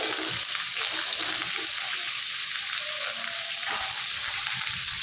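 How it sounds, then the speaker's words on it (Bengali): Cauliflower florets fry in hot oil in a pan, a loud continuous hiss and crackle that stays steady throughout, with occasional soft stirring clinks. "এই দেখুন মামনি ফুলকপিগুলো দিয়ে দিল তেলের মধ্যে"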